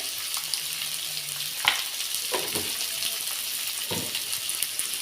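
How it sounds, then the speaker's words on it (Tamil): Vegetables sauté in a pan for a lunch-box recipe, giving a steady close sizzle with a few scraping stirs and knocks of a spoon against the pan. No voices. "இப்போ எல்லாத்தையும் சேர்த்து நல்லா வந்து வதக்கி விட்டுடலாம்"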